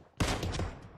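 A sniper rifle shot in a first-person shooter game fires as one loud, sudden blast with a sharp onset that holds and decays over most of a second, heard alone with no voices.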